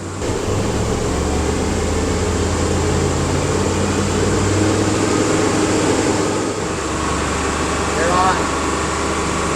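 A 2005 Dodge Dakota with a rough idle has its engine held at a steady 3,000 RPM, producing a continuous drone with a constant hum throughout; no talking.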